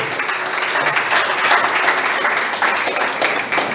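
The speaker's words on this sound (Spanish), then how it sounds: "Aplauda." Church congregation applauding during a Spanish-language service, a dense, steady wash of many hands clapping at close range throughout, with no clear speech.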